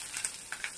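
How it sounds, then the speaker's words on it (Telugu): Tempering seeds splutter in hot oil in a pan, giving a few sharp crackling pops over a soft, continuous sizzle. The sound is brief and close, with no speech. "తాలింపు గింజలు అవి కొంచెం చిటపటలాడాక"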